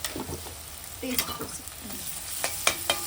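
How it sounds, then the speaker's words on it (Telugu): Onion, capsicum, carrot and noodles fry and sizzle in a pan, with a steady hiss broken by several scraping stirs and light clinks near the end. "ఫస్ట్ కలర్ఫుల్ ఫ్రై అవుతుంది"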